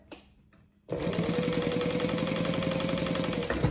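Following a brief quiet moment, a sewing machine starts up and runs continuously along a wallet edge, a close, even mechanical whir with a fine rhythmic stitching pulse.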